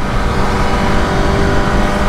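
A Dodge Hellcat drives by close, a loud, steady roar of engine and road noise filling the short moment with no pause or talking.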